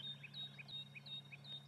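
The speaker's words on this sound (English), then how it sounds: "bird chorus." Birds on an African safari drive, near a water-dependent impala herd, giving faint repeated high chirps in a quick rhythmic pattern over a low steady hum, with no talk.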